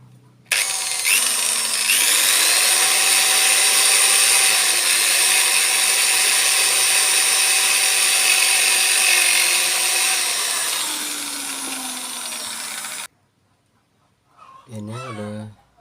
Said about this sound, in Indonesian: kemudian dihaluskan pakai amplas ini.